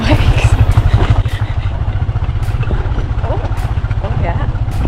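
Motorbikes ride a very rough, broken road in Ha Giang, Vietnam, with a loud, steady engine drone close by and scattered rattles and clatter of the bikes jolting over the bumps throughout.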